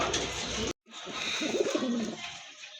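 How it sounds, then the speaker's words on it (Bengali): A pair of light-coloured pigeons coo softly and repeatedly at close range, with a brief silent gap near the start before the low, rolling calls continue. "মাশাআল্লাহ অনেক সুন্দর চমৎকার এক জোড়া কবুতর"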